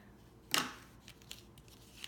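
Scissors cut thread on a handmade Christmas card with a single crisp, close snip, followed by faint small handling rustles in an otherwise quiet space.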